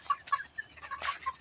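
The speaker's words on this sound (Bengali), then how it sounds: "এই যে কত সুন্দর মুরগিগুলো" Farm chickens clucking close by in a short run of soft, quick clucks and chirps, fairly faint and with no voices.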